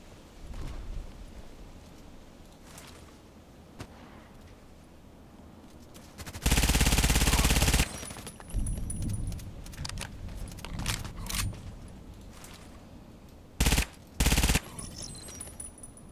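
Suppressed gunfire from a silenced weapon in a shooter video game, a long burst of rapid muffled shots followed by two shorter bursts, loud against quieter game ambience, with no talking.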